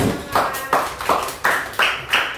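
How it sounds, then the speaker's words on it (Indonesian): Students clapping hands together in a classroom in a repeated group pattern of short bursts, close and loud, with voices mixed in. "Ayo tepuk tangan."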